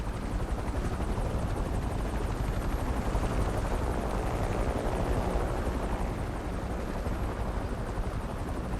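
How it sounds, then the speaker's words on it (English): Police helicopter in the Need for Speed Unbound video game, a steady loud rotor roar with dense chopping wash that holds constant throughout, alone with no talk. "Chopper's lost visual on the target."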